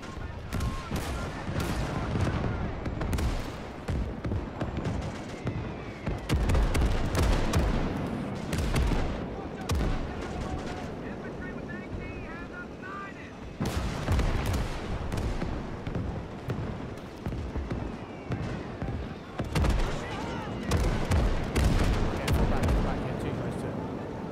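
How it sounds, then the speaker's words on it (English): Artillery and rifle fire boom and crack in an Iwo Jima battle from a World War II video game, a dense, continuous barrage of heavy blasts and gunshots at middle distance, with players talking over the din. "So lob some casual artillery around."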